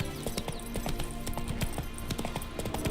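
Horse in The Witcher 3: Hearts of Stone walking with crisp, regular hoof clops over a steady outdoor ambience, the rhythmic steps close and clear.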